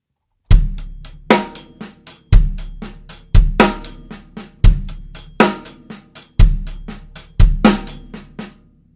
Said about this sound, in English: the first 4 notes are bass drum, hi-hat, hi-hat, snare with an accent